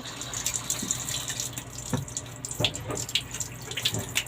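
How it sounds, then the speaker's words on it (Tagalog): Water runs steadily from a tap while a small poodle is bathed at a sink, with faint splashes and brief bumps over the continuous flow. "Maligo siya dahil mabaho na siya"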